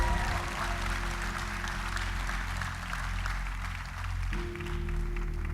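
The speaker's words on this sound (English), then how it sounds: "Clap for yourselves." An audience claps continuously at a reality TV show event for an entrepreneurship network, a dense wash of clapping that runs throughout with a steady tonal hum beneath it.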